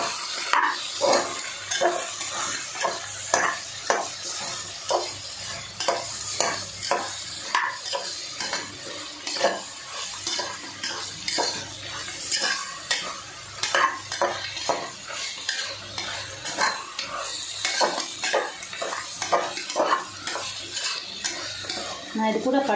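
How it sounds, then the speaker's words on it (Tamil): A utensil stirs ground onion and garlic paste frying in a pot for a village-style country chicken curry. The scraping and clinking repeats in a steady rhythm for over twenty seconds over a soft background sizzle. "இது எல்லாத்தையும் நல்லா சுருளை கிளறி விடலாம்."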